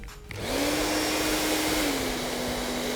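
A hair dryer, set low and heating hair rollers, switches on and runs with a steady, loud whooshing hum, its motor tone slightly shifting pitch partway through.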